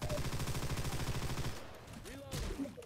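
Rapid automatic gunfire from Left 4 Dead 2, played on the Swamp Fever campaign, hammers loudly for about a second and a half before cutting off, and voices talk afterward.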